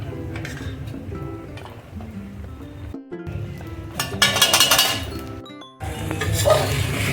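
Sabudana khichdi with crushed peanut powder, salt, chili and potato being mixed in a pan over high flame: steady scraping and clinking of a spoon against metal with a soft sizzle, growing brighter and louder midway, with a brief pause.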